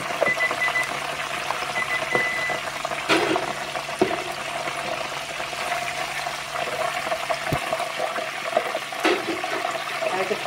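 Water runs and splashes steadily off a pot of boiled blue crabs as they drain, a continuous rushing pour with a few knocks and clatters, close and loud.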